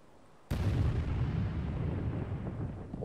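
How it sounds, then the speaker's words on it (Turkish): Rockets explode in the video game Tekken 7: after a quiet moment, one sudden loud blast hits and gives way to a long, heavy rumble that slowly fades. "Of, nükleer patlama galiba ya."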